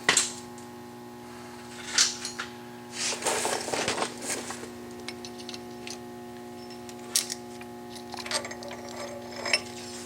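A hand ratchet turns off an axle shaft nut on a Dana 44 axle, giving sparse, close clicking and a short burst of metallic ratcheting over quiet shop background hum; no speech.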